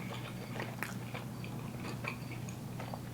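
Close-up chewing and lip smacking while eating shrimp at an Asian fusion restaurant, with soft wet clicks and crunchy bites over a steady low room hum.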